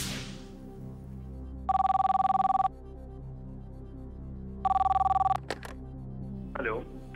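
A telephone rings twice as a call is placed on a television quiz show, each ring a loud electronic trill of about a second separated by a pause, with faint room sound in between.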